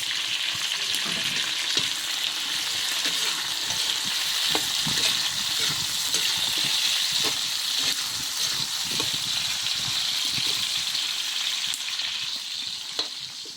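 Tomatoes sizzle and fry in plenty of oil in a pan, a steady close crackling hiss with occasional stirring scrapes throughout.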